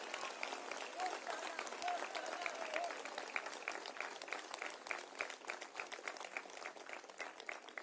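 Applause from an audience at a political rally in Gazi Baba, a steady rapid patter of many hands clapping at moderate distance, fairly quiet and continuous throughout.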